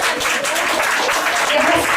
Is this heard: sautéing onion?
no